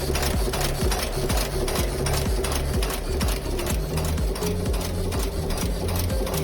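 A screw heading machine forms wood-screw blanks in a one-die, two-blow process, giving a loud, steady, rapid mechanical clatter of regular repeating strikes with a constant motor hum throughout.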